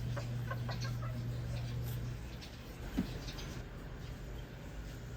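Backyard chickens cluck in soft, scattered calls over a steady low hum and general outdoor background noise, with one sharper sound near the middle.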